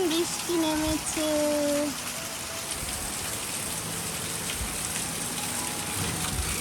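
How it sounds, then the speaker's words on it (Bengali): Heavy rain pours in a dense, steady hiss throughout, with a short stretch of whining tones near the start and people talking faintly beneath it. "দেখো কি দারুণ বৃষ্টি নেমেছে"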